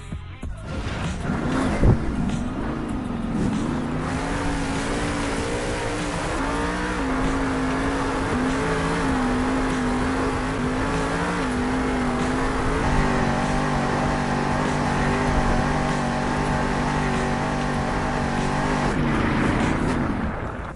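The Soldier Fortune monster truck at a Monster Jam arena show in Salt Lake City roars continuously, its big engine revving and holding high in long sustained surges that fill the arena for about twenty seconds, with no voices over it.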